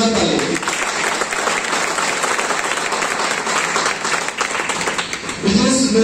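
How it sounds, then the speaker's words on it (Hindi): Loud, dense applause from a seminar audience in Paratwada fills the room for several seconds, a steady roar of many clapping hands, with a voice breaking in briefly at the very end. "मैं चाहूंगा इसलिए मैं जोरदार ताली।"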